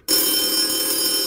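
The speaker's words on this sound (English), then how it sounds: "And then my phone rang." A phone rings loudly and steadily from a sudden start, the ringing tone sustained for over a second with no talk over it.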